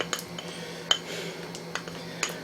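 Metal kitchen utensils clink and rattle as a small spatula is picked out from among them, a few sharp light clinks over a low steady hum.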